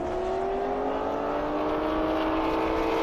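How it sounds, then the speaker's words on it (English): A Corvette and a Toyota Supra racing side by side down an airstrip at a top-speed event, making a loud, continuous engine drone whose pitch climbs slowly and steadily, with no voices. "Got Brandon Franklin, though, in the Corvette going up against Devin McWhorter in the Supra."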